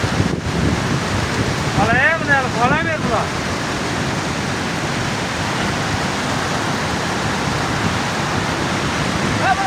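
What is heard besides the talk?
mountain flood torrent rushing water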